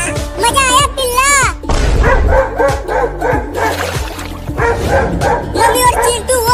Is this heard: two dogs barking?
yes